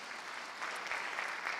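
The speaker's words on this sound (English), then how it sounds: "let's give the Chargers a round of applause for that" A brief burst of audience applause at a school district awards ceremony honouring a high school boys golf team, many hands clapping in a steady, moderately loud wash with no talk.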